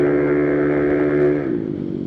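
A loud custom Italjet Dragster 300 scooter engine with a CNC-modified build holds a high, buzzing rev up close before the pitch drops and settles lower.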